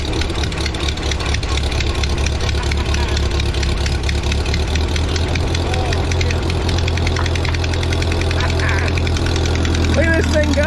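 An 80-plus-year-old Ford 9N tractor engine runs on gasoline after sitting for years, a loud rough chugging idle with uneven knocking pulses, close by, with a voice occasionally speaking over it.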